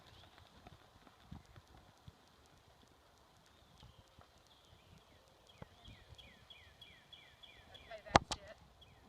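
A horse trots during a riding training session, its hooves making a steady, rhythmic clip-clop at moderate distance, with a sharp loud clack near the end.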